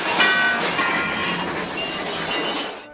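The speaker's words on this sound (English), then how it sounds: "a death-defying train chase in the final act" Clattering rail noise from a death-defying train chase in a Monty Python-made children's film, a dense, loud, continuous rumble and clickety-clack with sharp metallic highs, steady throughout with no talking.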